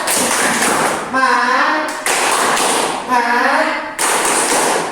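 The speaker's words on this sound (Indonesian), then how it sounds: "Mari kita tepuk semangat dulu." A group of people doing a rhythmic Indonesian spirit clap, bursts of brisk, crisp hand claps in patterned sequences, alternating with chanted voices between the clapping sections.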